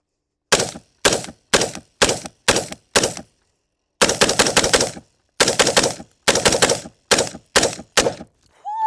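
Rapid gunshots from a PSA Sabre-10A1 .308 16-inch AR10 rifle, sharp loud cracks in quick bursts of single shots with brief pauses, close and dry.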